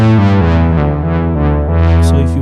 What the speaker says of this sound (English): right now, I'm just playing a simple bass line or bass sound patch.